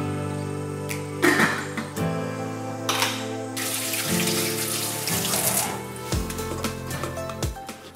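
Tap water runs steadily over blanched chicken bones in a sink, splashing and gurgling as they are rinsed of impurities before going into a pressure cooker for ramen broth.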